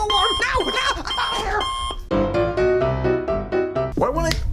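A low-battery alarm beeps repeatedly among musical tones and voices, a steady electronic chirp loud in the mix under busy sound.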